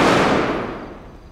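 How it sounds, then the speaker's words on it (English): A single loud gunshot from video game police, its boom and echo trailing off over about a second with no talk over it. "Is police shooting at them?"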